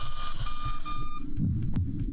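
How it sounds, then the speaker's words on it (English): Heartbeat effect from the ghost-hunting pixel video game Ghostist, a steady run of soft low thumps under a faint electronic tone that fades, followed by a brief rumbling burst. "the heartbeat seems to indicate that maybe the ghost is gonna attack."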